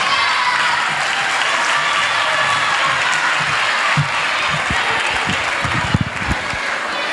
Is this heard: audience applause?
yes